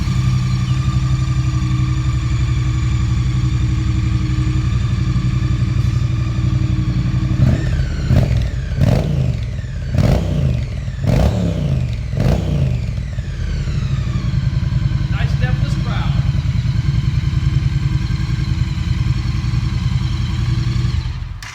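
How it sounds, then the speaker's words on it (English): A 2016 Triumph Street Twin 900 parallel-twin with 270-degree firing order idles steadily up close with a deep, lumpy exhaust burble, a few sharp throttle blips in the middle, then settles back to idle. "We're going to leave you with a nice exhaust note of the new 270 firing order Street Twin."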